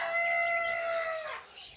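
A rooster crows once nearby, a loud drawn-out call that trails off, with no talking.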